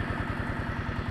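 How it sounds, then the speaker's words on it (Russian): A small Scout T-12 mini tractor engine runs steadily nearby, a low, even chugging with a regular pulse and no speech over it. "Вот этот маленький мини-трактор. Делает свое дело."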